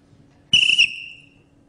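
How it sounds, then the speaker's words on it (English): A person whistles a single high, pure tone that starts abruptly, holds for about a third of a second, then trails off faintly, alone in a quiet lecture hall. "My whistle."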